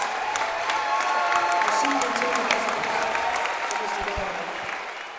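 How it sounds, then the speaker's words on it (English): Crowd applauds and cheers in a high school gym during a boys basketball game ceremony, loud sustained clapping filling the space with voices mixed in, tapering slightly toward the end. "Let's give him a big round of applause."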